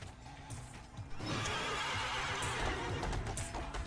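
A horse whinnies loudly in a long, wavering neigh over a steady background of game audio from Devil May Cry 3.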